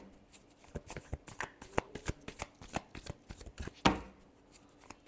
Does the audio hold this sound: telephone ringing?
no